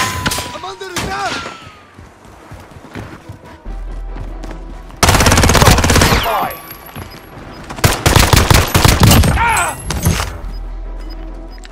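Heavy automatic gunfire in a battle royale video game rattles in loud, sustained bursts with a brief lull in between, mixed with game voice callouts and other combat noise.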